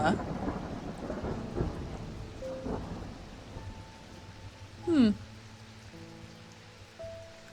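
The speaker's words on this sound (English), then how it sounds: "Oh, that thunder be thundering" A long rumble of thunder fades out over rain falling on a surface, moderately faint, while a soft pitched tone and a brief gliding sound briefly stand out.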